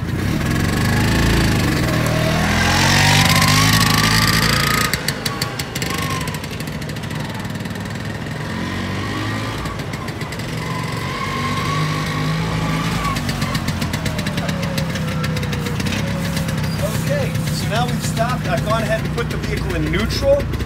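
A vintage Vespa Ape P501 three-wheeler pulling away and driving in second gear, its small engine droning steadily with rising and falling pitch as it accelerates, loud and close throughout with speech mixed in.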